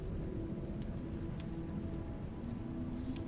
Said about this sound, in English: I'd rather sit here and listen to the rain.